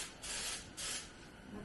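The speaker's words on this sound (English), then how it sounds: "So let's spray a little starting fluid in the front of the carb." Starting fluid sprays in two hissing bursts into the carburetor of a 1964 Evinrude Fisherman 5.5 hp outboard, close and fairly quiet, then fades to low background.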